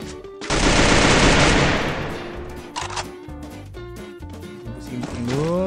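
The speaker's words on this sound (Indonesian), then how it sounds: "Ada orang tembak aku." Rapid automatic gunfire in the Free Fire mobile battle game: a loud, dense burst of shots up close, followed by scattered clicks and fainter shots as the action continues.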